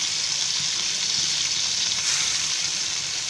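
Garfish (toll fish) fries in a pan over a lowered gas flame, a loud, even, hissing sizzle that holds steady throughout, close up and alone without talk.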